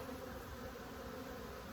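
Dense, steady buzzing of many honey bees at an opened hive box, a continuous close drone filling the air with no voices.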